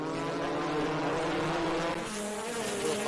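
Race cars in the Victorian State Race Series at Sandown Raceway roar past continuously, a loud, dense engine drone with shifting pitch and a brief dip midway, no voices over it.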